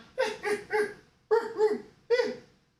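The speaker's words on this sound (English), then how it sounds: "What is your problem, dog?" A pet dog named Zoe lets out five short, whiny yowls, grouped in twos and threes with brief pauses, close by and fairly loud.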